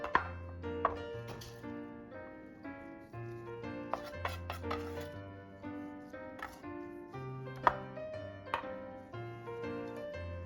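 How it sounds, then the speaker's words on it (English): A handful of cilantro is finely chopped with a knife on a board. Quick, irregular knife taps sound close by over steady tonal background music. "Finely chop a handful of cilantro."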